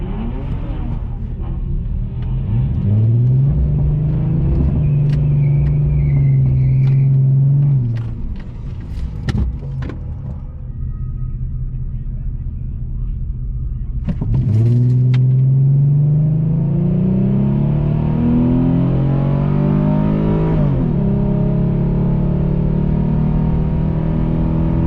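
Race cars at Orlando Speed World roar from inside the car, a heavy low engine rumble rising and falling through two strong revving climbs, with passing engine noise and scattered clicks around the middle.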